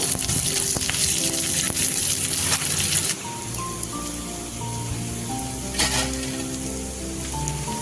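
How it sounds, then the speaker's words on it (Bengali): Medium-sized onion frying in a pan for a spicy ridge gourd and egg curry, with a steady, close sizzle that's loud at first, then eases into a softer crackle with occasional bursts. "পেঁয়াজটাকে আমি একটু ভালো করে ভেজে নেব"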